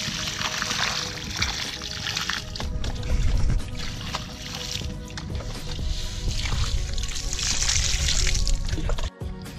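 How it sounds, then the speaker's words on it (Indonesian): Water is poured onto sandy soil in a pot holding a local waru plant, a steady close trickle and splash that swells and eases over several seconds without talk. "kita siram dulu guys"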